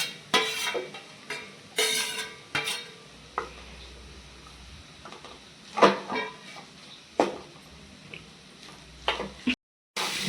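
Chicken being stir-fried dry in a pan, with intermittent clanks and scrapes of a spoon against the pan over a faint sizzle and quiet gaps between strokes.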